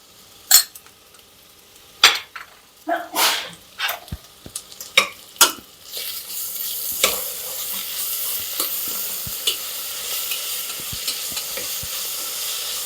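Ginger garlic paste goes into hot oil for chicken pulao: several sharp spoon-on-pan clinks and stirring knocks come first, then a steady hissing sizzle builds and carries on with occasional light taps, close by and without talk.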